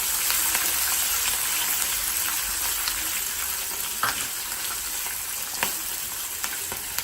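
Green chili pieces for Andhra mango pulihora fry in a pan with a loud, dense, continuous sizzle. Occasional light stirring knocks rise briefly above it.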